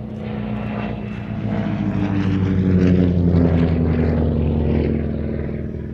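A Percival Provost piston-engined propeller trainer flies past at a Shuttleworth race day airshow, its engine droning loudly and steadily, swelling toward the middle and then fading slightly.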